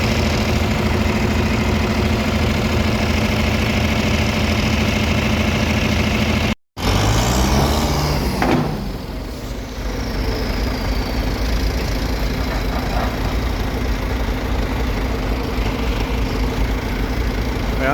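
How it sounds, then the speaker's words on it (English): A backhoe and a tractor run together with heavy, steady engine noise while trying to push a hay-loading truck, a loud continuous rumble broken by a brief dropout and then a strain that settles back into a constant drone. "Got the backhoe and the tractor going at this."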